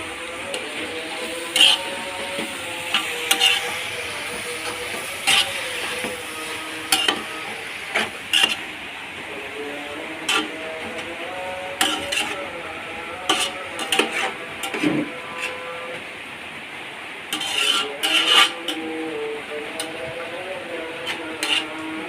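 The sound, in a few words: tomatoes added and stirred in a frying biryani pan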